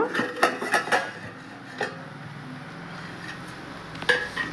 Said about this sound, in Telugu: మూత అయితే తీస్తున్నాను నేను